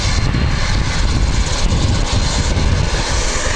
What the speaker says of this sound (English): So this is flight NZ5311 going to Nelson. It's an ATR, registration MVQ.